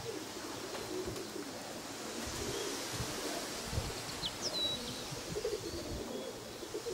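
Racing pigeons coo softly in a loft yard as birds return, faint low calls under outdoor ambience with a few distant chirps, no talk.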